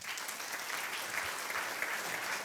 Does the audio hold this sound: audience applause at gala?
yes